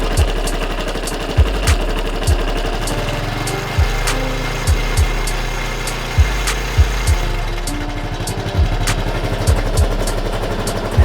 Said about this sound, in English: there's a clacking sound coming from the crankcase